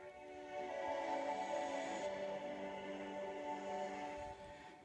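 Ableton Live launching every clip in a session at once, giving a dense, sustained wall of layered music at steady moderate level, with no talking.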